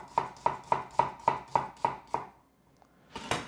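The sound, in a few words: chopping a red onion for salsa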